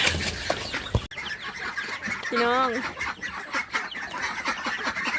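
Farm chickens on a Lao homestead in Savannakhet cluck in short rising calls, one clear bout midway, mixed with background rustling while someone talks nearby.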